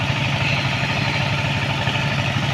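Machines pump mud and water out of a large pond being dug for fish farming, a continuous, even engine drone with a low throbbing pulse, steady and fairly loud throughout.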